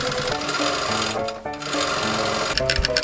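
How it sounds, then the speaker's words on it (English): A sewing machine restitching velvet ribbon onto a shirt collar runs in a steady, fast mechanical whir with dense needle chatter, close and loud, pausing briefly midway before starting again, with no talking. "insert the velvet ribbon into that and then restitch it down"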